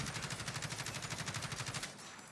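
Automatic weapon fire from Warzone, shot from a standing position, as a fast steady burst of evenly spaced loud shots lasting nearly two seconds before cutting off into a brief tail.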